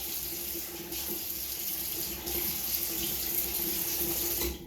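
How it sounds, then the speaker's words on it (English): Hot water running from a tap while a head is wetted for shaving, a steady close splashing stream that shifts slightly as the water is caught and spilled, with no speech. "I'm just wetting the top some with some hot water"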